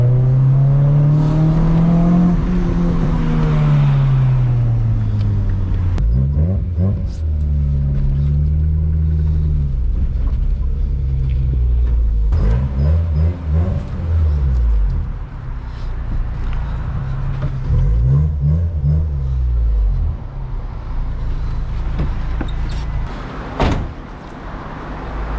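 A Honda Integra Type R DC2 engine drones and revs in a steady, loud tone that rises and falls, with a few sharp exhaust pops and crackles breaking through.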